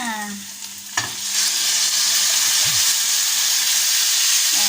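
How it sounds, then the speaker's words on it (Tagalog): Beef drops into a pan of browned garlic and onion and frying erupts into a loud, steady sizzle and hiss that fills the rest of the moment after a brief clatter. "Pag nag-brown na konti yung bawang, sibuyas, saka na siya ilalagay"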